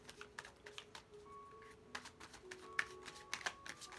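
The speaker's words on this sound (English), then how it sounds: "So we're gonna do a quick shuffle." Soft, irregular riffling and flicking of tarot cards, a quick scattered series of light papery snaps close by, with a faint hum underneath.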